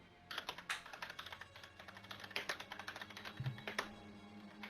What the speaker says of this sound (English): who are you typing to furiously?